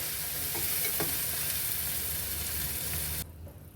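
Prawns sizzle in a spicy kolambi masala, a steady broadband frying hiss with a few soft stirring scrapes, close and alone, before the sizzle drops sharply near the end.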